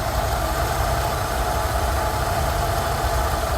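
A Rolls Royce Silver Shadow engine idles steadily during carburettor tuning, a close, even rumble with a faint knocking vibration and no pauses.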